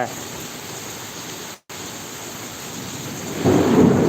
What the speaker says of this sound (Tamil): திடீர்னு பார்த்தீங்கன்னா பயங்கர இடியோட மழை பெய்ய ஆரம்பிச்சிச்சு